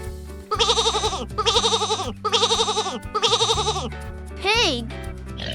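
A sheep bleats four times in a steady, evenly spaced rhythm, each quavering call loud and near, over a bouncy music track with a sliding whistle-like sound at the close.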